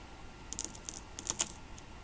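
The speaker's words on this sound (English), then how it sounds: "I'm going to cut across" Scissors snip through the wires of a CAT5 ethernet cable, giving a few quick, faint, close clicks in a quiet room.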